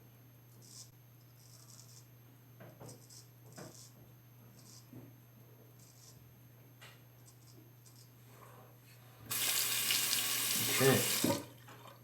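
A tap runs hard for about two seconds as someone rinses off mid wet shave, a close, loud rush of water after a stretch of quieter handling noises, with a brief spoken word near the start.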